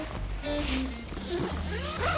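Zipper on a Tokyo Craft Ogunis dome tent pulled in a couple of quick, close, raspy strokes, loud and alone with no speech.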